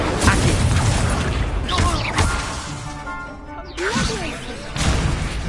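A Confringo explosion spell in Hogwarts Legacy erupts in loud booming blasts and crashing bursts amid whooshes of other spells, with a spoken voice over the fight.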